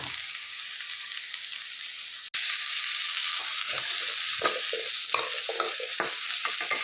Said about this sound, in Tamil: இதை நல்லா ஒரு சாட்டே பண்ணி வச்சுட்டு இது ஒரு ரெண்டு நிமிஷம் சிம்மில் வேகட்டும்